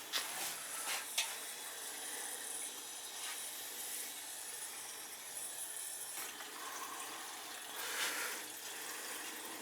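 Water rushes and hisses steadily through the pipes of a hot water heating system being purged, a continuous broadband flow with a few faint clicks near the start and a slight surge toward the end, no voices.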